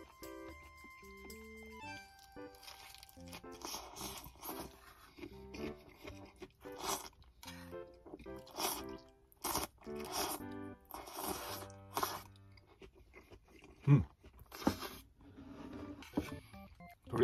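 Konjac noodle salad loaded with vegetables being eaten up close, with repeated crunchy bites and chewing in irregular bursts, some louder crisp crunches standing out, no talking.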